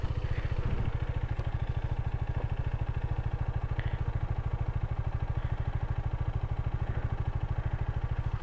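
A KTM Duke motorcycle rides an off-road, slippery trail near Kathmandu toward Fung Fung waterfall, its engine giving a steady, close, rhythmic thrum with faint clatter throughout and no talk.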